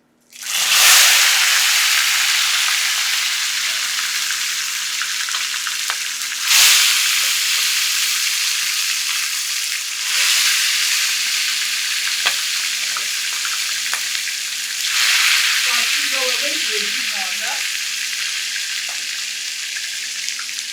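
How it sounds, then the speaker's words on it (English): Steady loud sizzling of chicken frying in a pan, with a few stirring clatters and brief scraping sounds along the way. "So we're going to introduce this to our frying pan."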